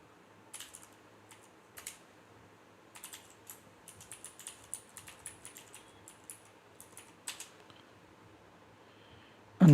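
Quiet keystrokes on a computer keyboard entering login credentials, short bursts of clicks with brief pauses, close and soft.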